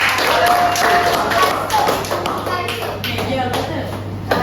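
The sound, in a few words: children clapping hands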